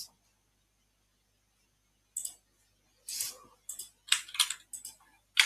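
Short bursts of typing on a computer keyboard entering an admin password, a few quick clusters of clicking keys after a pause, close and clear in an otherwise quiet room.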